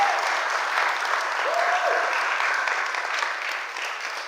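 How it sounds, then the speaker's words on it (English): Sustained audience applause at an annual meeting marking a tenth anniversary, an even roomful of clapping that slowly tapers, with a faint voice heard briefly partway through. "Let's give a big round of applause to Jasmine."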